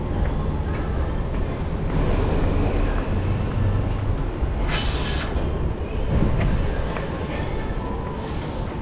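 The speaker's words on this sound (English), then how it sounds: "Now we gotta make it back to Amsterdam Centraal through the pipe, the underground tram" Underground tram riding toward Amsterdam Centraal, a loud continuous rumble and roar of wheels and motor with brief squeals and hiss rising above it, steady throughout and heard from inside the car.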